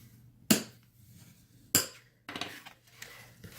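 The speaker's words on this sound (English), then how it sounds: "Now I'm going to fold and burnish both of my score lines." Score lines on a pocket piece are folded and burnished by hand: two sharp close clacks followed by a run of firm rubbing and tapping strokes, quiet between hits, with no speech.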